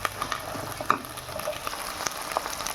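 Chopped tomatoes sauté with minced beef for a chickpea beef keema, crackling in a steady close sizzle with scraping stirs and small pops, and no one speaking.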